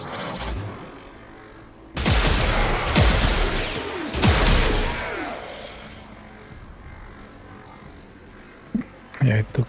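Weapon gunfire in the Warframe video game, with a burst of loud, dense shots from about two to five seconds, then a quieter stretch and a few sharp sounds near the end.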